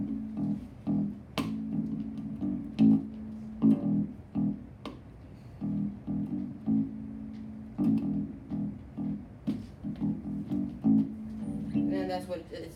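D: Bass guitar riff, a steady pattern of low plucked notes repeating in a driving rhythm, played alone and fairly close.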